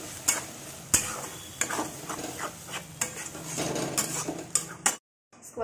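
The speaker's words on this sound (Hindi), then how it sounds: "इसको तब तक भूनेंगे जब तक इससे तेल रिलीज ना होने लगे" Spinach paste frying in a pan, with a spoon clinking and scraping against the metal while stirring, a faint sizzle underneath, ending in a brief silence.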